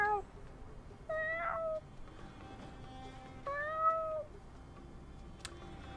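Cat meowing in the open-world wuxia video game Where Winds Meet, two or three clear, fairly quiet meows a second or so apart over a soft game background.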